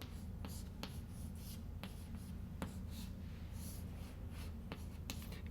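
Chalk or marker scratching out an equation on a board during a physics lecture, with soft scattered taps and strokes over a steady room hum, no voice.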